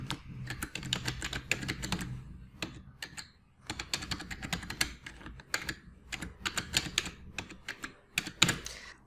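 Someone enters an email address on a computer keyboard, producing rapid, uneven clusters of crisp key clicks with brief pauses, close and steady.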